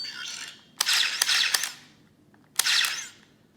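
Mechanical electronic firing effects from a Judge Dredd Lawgiver MK 2 replica prop gun set to armor piercing mode: a few sharp clicky, ratcheting bursts, two close together and then one more after a pause, loud and near with no talk.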